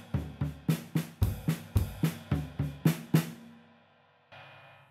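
Drum kit playing alternating single and double strokes between ride cymbal, snare and floor tom, a steady run of about a dozen sharp hits with cymbal wash, ending in a fading ring and a faint later hiss.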